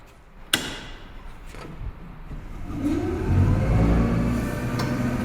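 A DC motor in an electrical machines lab starts up after a sharp click, its hum and whir building steadily and then holding at a constant running level nearby.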